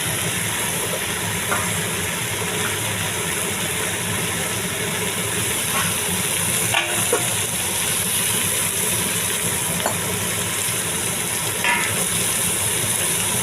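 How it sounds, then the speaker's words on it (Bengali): Continuous soft sizzle of soybean chunks being sautéed with papaya and potato for a curry, a steady frying hiss close by with occasional faint stirring scrapes. "এবার দেখুন সয়াবিনটা দিয়েও আর একটু কষাবো, কষিয়ে তারপর আমি দিয়ে দেবো জল"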